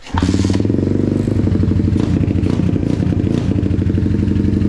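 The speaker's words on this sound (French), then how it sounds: "quand t'enlèves la chicane, elle fait un bruit monstre" A 125cc YCF dirt bike engine revs hard and loud without a baffle, a raw, throaty roar that holds steady with brief pulses of extra throttle.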